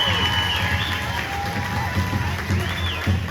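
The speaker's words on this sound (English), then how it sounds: "Let's give him a big round of applause." Crowd at a powwow men's fancy dance special at Kinder, cheering and clapping steadily with whoops and whistles rising above the general roar.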